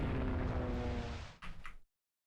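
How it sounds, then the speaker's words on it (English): Naval battle gunfire and explosions in the video game Rule the Waves 3 make a dense, roaring wall of booming blasts that ends in two sharper bursts and then cuts off abruptly. "We're also lighting up with gunfire."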